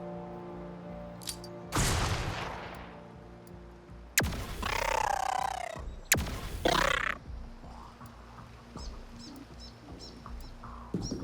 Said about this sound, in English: we're just gonna throw stun grenades in here.